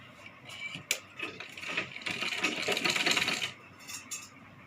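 A sewing machine stitching a Rajputi kanchali blouse makes scattered mechanical clicks and then a denser whirring run of stitching in the middle, before tapering back to a few isolated ticks.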